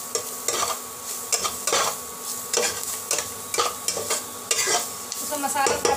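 Masala cooks in a pan with a sizzle as a spoon stirs it in quick, repeated scraping strokes, loud and close.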